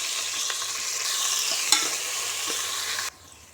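Onion, tomato and peas fry in a pan with whole spices, giving a close, even sizzle broken by a few stirring scrapes and one sharp clink before it suddenly quietens.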